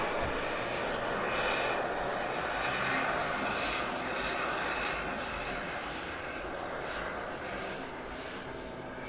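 Airshow display aircraft combining a propeller engine with two small jet engines, its loud, sustained broadband engine roar and whine filling the whole stretch close overhead, easing slightly toward the end.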